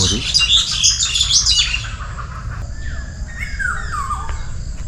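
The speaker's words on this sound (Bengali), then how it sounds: "সকালবেলা তাদের কিচির মিচির শব্দ" Busy high morning chirping and squawking of several birds close by, including a myna, bright and overlapping at first, then thinning to a few scattered calls.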